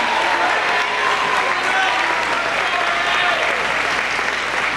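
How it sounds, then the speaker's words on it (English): Sustained audience applause at a high school senior awards ceremony honoring recipients and presenters, dense steady clapping filling the hall at a loud, even level with a faint murmur of crowd beneath. "Let's give one round of applause for all our recipients and all our presenters."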